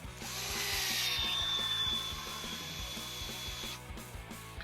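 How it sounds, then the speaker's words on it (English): A power drill whirs steadily for several seconds while driving screws into a brand new Tekno EB48 2.1 RC buggy, then stops, and a small click follows. "I won't go all the way in with the drill."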